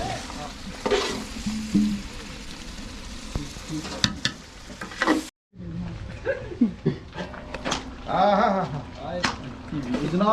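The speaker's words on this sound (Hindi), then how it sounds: "जनाब बड़ा ज़ोरों शोर से मटन तैयार हो रहा है" Mutton pieces sizzle and fry in a karahi for a Hyderabadi makhni mutton karahi, a steady close hiss broken by stirring scrapes and clatter, with someone talking over it and a brief gap midway.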